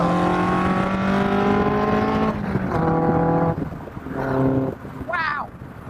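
Duratec-powered Indy R car pulling hard through the gears, a loud close engine note rising in pitch with two brief shift breaks, ending in a quick high rev, with wind noise throughout.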